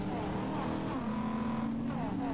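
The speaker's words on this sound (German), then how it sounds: "Dafür höre ich meinen Auspuff umso lauter." A car's exhaust roars in the racing game Need For Speed San Andreas. The engine drones loudly and continuously, its pitch dipping and then climbing again as the car accelerates.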